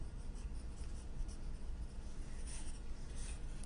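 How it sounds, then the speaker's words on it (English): Pen or pencil sketching a parabola on paper, a continuous close scratching and rubbing with faint strokes, no talking. "I'm going to draw a sketch of my function."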